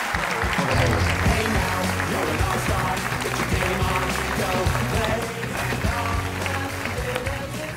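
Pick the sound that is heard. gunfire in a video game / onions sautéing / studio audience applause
studio audience applause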